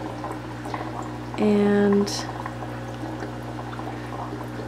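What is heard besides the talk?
air bubbling in DIY hatcheries for Bristol fish fry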